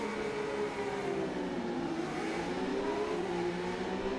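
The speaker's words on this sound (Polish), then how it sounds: "Już słychać ten charakterystyczny dźwięk trzech cylindrów w Triumfie." A Triumph Street Triple R three-cylinder motorcycle engine in the racing game RIDE 5 drones steadily and loudly throughout, its pitch slowly rising and falling as the bike runs.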